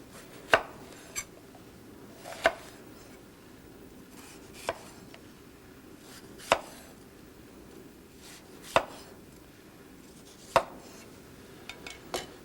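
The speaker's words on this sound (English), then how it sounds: "Cut the side off a red pepper." A knife cuts through a red pepper on a board, giving about eight sharp, evenly spaced thuds roughly two seconds apart, with a couple of quicker light taps at the end and no talking.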